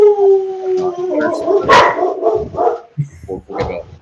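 A dog close by howling and barking, a long drawn-out howl followed by several sharp barks and yips, loud and near.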